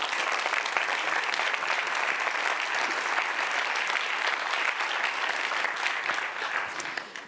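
An audience at a social innovation pitching competition applauds after a startup pitch, with sustained, even clapping filling the room for several seconds before tapering off at the end.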